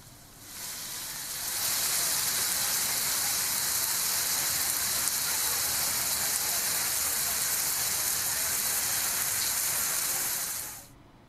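Heavy rain pours down at night in Hyderabad as a dense, steady hiss. It fades in after a second, holds even and loud, then cuts off near the end.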